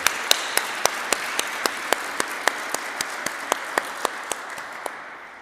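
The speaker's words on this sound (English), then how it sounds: "Patrick deserves a round of applause" A round of applause for Patrick Decker at a ribbon-cutting ceremony, with a crowd's steady clapping carried along by one sharp, regular clap near the front, a beat roughly every quarter second, fading slightly toward the end.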